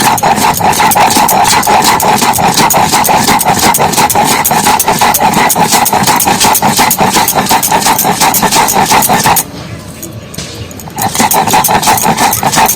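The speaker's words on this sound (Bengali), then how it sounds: "যেহেতু শিলনাড়ায় পাচ্ছি তাই জন্য ভাগে ভাগে করে বেটে নিচ্ছি আগে মটরশুঁটিটা বেটে নিচ্ছি" Green peas being ground by hand on a shil-nora stone slab, a loud, continuous rhythmic scraping and rubbing that stops briefly before resuming.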